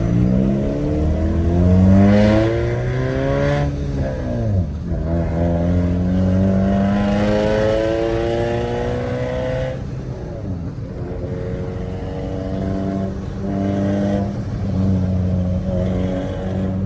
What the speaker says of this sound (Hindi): बटन किया दब और हमारा एग्जॉस्ट हुआ, कट ऑफ ऑन हुआ।